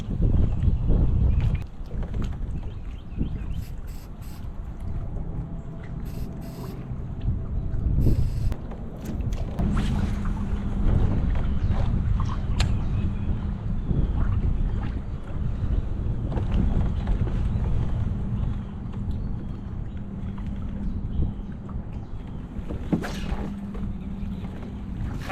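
Kayak gliding along during spring bass fishing, with a steady wash of water and heavy wind buffeting the microphone throughout, occasional knocks and creaks from the hull, and no clear talk.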